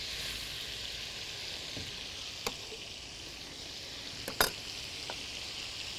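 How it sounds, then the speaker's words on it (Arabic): Onions with salt stirred and frying in a pan until softening, a steady sizzling hiss running throughout with a few light utensil clicks against the pan near the end. "وأقلب كده كويس لحد لما البصل يطرى شوية شوية صغيرين"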